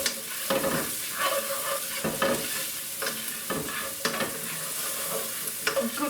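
Crushed garlic and chili flakes sizzle loudly in a hot pan while a utensil stirs and scrapes through them in several distinct strokes, close and continuous, with no voices.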